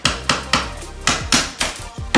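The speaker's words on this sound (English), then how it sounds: "So I started using a flathead screwdriver to get started and then switched to a pry bar." A screwdriver and pry bar work window trim loose during a bathroom shower demolition, giving about eight sharp, close knocks at an uneven pace, each with a short ringing decay.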